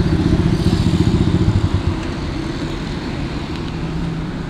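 Heavy motorcycles at an outdoor bike show by Lake City, their loud, close engine rumble pulsing rapidly at first, then settling into a steady, dense roar.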